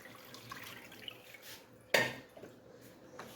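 Cold water splashes and pours over strained milk curds in a strainer in one sudden loud gush, with light clinks of kitchenware and dripping before and after.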